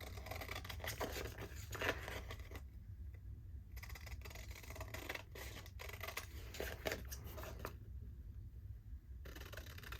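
Scissors snip through dry magazine pages coated to take off the gloss, a quiet close series of irregular crisp cuts and paper rustles with brief pauses between.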